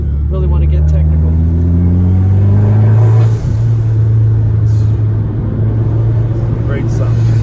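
A car engine growls and rises in pitch as turbo boost builds, a loud, close, continuous rumble heard from a ride-along in the cabin, settling into a steady drone.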